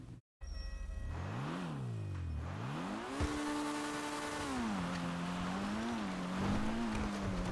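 Pfister Growler sports car driven in GTA Online on snow, its engine revving up and down through gear changes in a rising and falling whine, loud and close with no talking.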